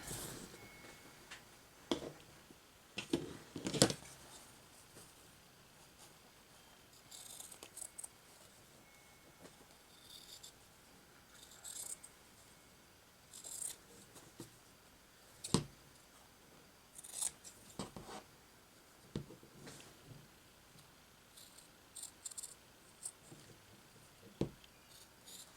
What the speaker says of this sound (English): usually what I'll do is just trim my fabric around it so I know where my piece is